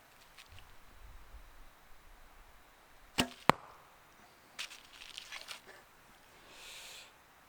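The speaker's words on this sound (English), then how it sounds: "I think the bow's even quieter shooting in this style." Longbow shot loosed with wooden arrows, giving one sharp, quiet snap and a second crisp crack close together, followed by faint scattered rustling in a quiet outdoor setting.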